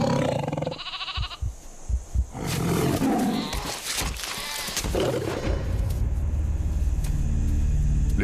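Bengal tiger roaring, with several deep, loud roars and growls rising over a dense, continuous rumbling background that fills the scene throughout.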